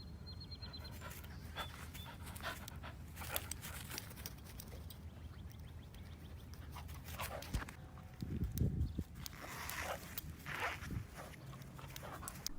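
A two-legged dog pants steadily while walking, with soft padding footsteps and scuffs close by, faint and continuous, with a few louder thumps partway through.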